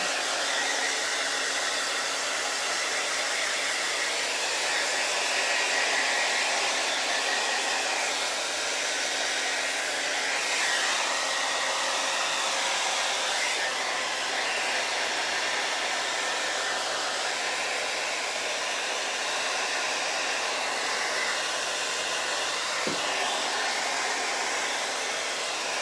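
A hair dryer blows steadily and loudly for the whole stretch, a constant close whooshing roar used to dry a painting, with no voices over it.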